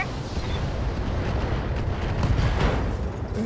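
Mech torso blown apart by weapon fire in the BattleTech video game, a dense, continuous roar of explosive rumble with sustained low-end booms and faint crackling bursts, loud and unbroken throughout.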